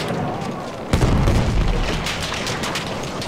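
Grenades explode in Battlefield 1 during a World War I battle at Fort De Vaux. After a steady din of combat, a sharp, heavy blast hits close at about one second and leaves a long rumbling tail.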